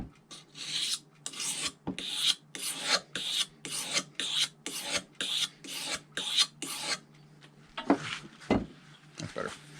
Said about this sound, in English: So I'm going to throw and sharpen our blade real quick.